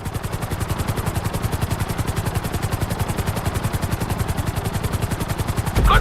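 Helicopter flying in the video game GTA V: a loud, steady rotor chop pulsing evenly throughout with a constant engine whine behind it, unbroken by any talk.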